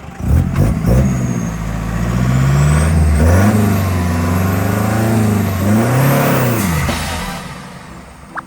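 A modified van engine of about 400 horsepower with a turbo blow-off revs up and holds high, rising and falling twice before dropping back to idle, loud and close, with no one talking.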